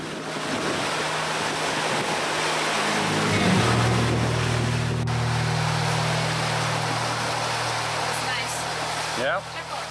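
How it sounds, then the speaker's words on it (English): Sea water roars and rushes past the hull of a sailing boat moving at speed, a loud, steady wash with wind noise and a lower hum underneath. "you can hear the roar of the sea when the boat's above 8 to 9 knots."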